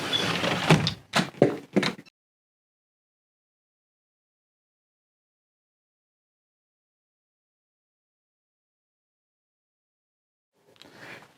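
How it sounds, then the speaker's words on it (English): A sliding door fitted with a security sensor opens and closes in a few quick, loud rattling thunks in the first two seconds, then silence, with a faint brief rustle near the end. "Sliding door open."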